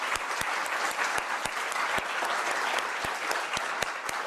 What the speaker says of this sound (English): let's give a round of applause to, first of all, our authors who really took their time for us tonight